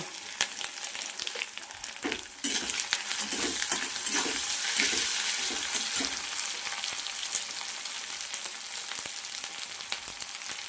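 Onion, ginger, garlic and dried red chili sizzle in oil in a pan for red amaranth greens with peanuts, a steady bright hiss with soft stirring scrapes, close and continuous, no voices.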